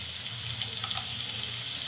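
Finely chopped onions hit hot oil in a pan while cooking egg masala, giving a steady, close, bright sizzle of frying that runs continuously without any talk.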